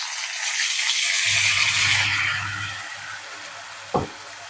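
Water is splashed onto capsicum frying in a hot pan, giving a loud, steady hissing sizzle throughout, with a low rumble underneath and a short knock near the end.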